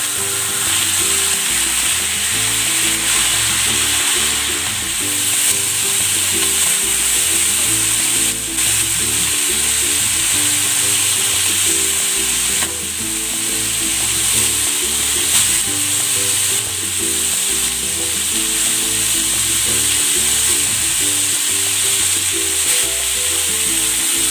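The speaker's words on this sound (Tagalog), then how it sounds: "Pan-fry ko muna itong pork." Pork belly pan-frying in cooking oil, a loud continuous sizzle and crackle close by with faint rhythmic scraping throughout, no talking.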